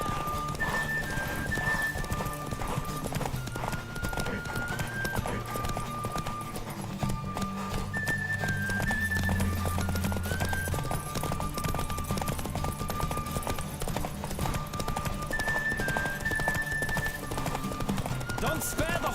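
A horse gallops in The Witcher 3 video game with rapid, continuous hoof clip-clops, loud and steady for the whole stretch, and occasional whinnies under a running music score.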